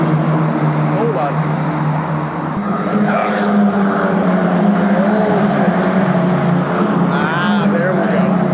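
Formula 1 race cars at the Las Vegas race, engines whining past at a distance with rising and falling pitch, blended with crowd noise and a person talking nearby.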